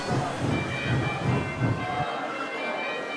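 A train rumbles steadily nearby, a low continuous mechanical drone that drops away partway through.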